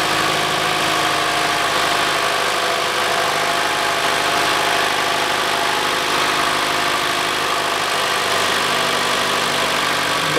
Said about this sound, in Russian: Да, двигатель мягенько работает.